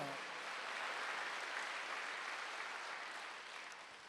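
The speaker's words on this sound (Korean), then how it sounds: "박수 한번 되세요." Congregation applause during a Wednesday evening church service, a continuous wash of many hands clapping at an even, moderate level that softens slightly toward the end.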